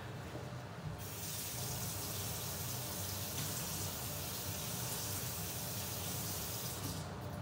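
Running water pours steadily from a tap as a container is rinsed under it, a continuous close splashing gush that cuts off near the end.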